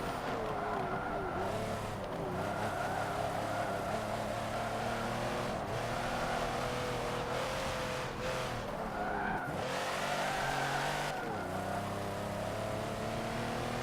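A Mercedes-AMG car's engine roars through Forza Motorsport 7, its loud, aggressive revving repeatedly rising and dropping with gear shifts, mixed with skidding tire squeal, sustained with no talking.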